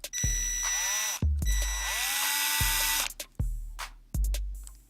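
A small power drill whines in several short bursts, pitching up and down as the bit bites into the plastic thigh piece of an action figure, with clicks and brief pauses between.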